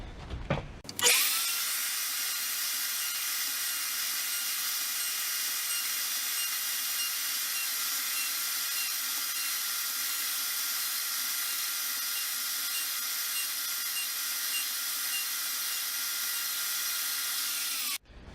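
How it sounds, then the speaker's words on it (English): A milling machine runs steadily as it plunges a row of evenly spaced holes into a wooden candle holder base, producing a loud, continuous high-pitched whine that holds for the whole stretch before cutting off at the end. "I'm going to move to each hole, plunge in, plunge back, next hole, in, back"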